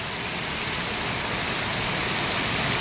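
Heavy rain from Typhoon Carina pours down in a dense, unbroken hiss that stays steady and loud from start to finish, with no voices.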